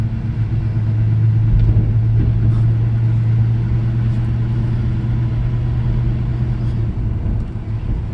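A 1968 Chevy C10 pickup truck engine idling close by, a deep steady rumble with a low droning tone and slight rises in revs, alone without talk.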